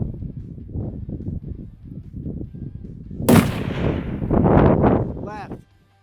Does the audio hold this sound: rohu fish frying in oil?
no